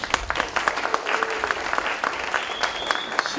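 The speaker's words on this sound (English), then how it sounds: "Let's give her a big applause." Applause from an audience at a KAIST university international student event, steady clapping throughout, loud and close, with some crowd murmur mixed in.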